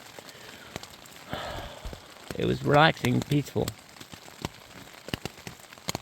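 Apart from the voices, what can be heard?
rain falling outside a tent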